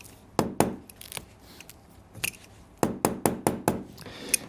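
Sharp, close knocks from the small hammer head on a pair of narrow pliers strike the toe of a custom cowboy boot, irregular at first, then a quicker run of five or six blows, with no talking.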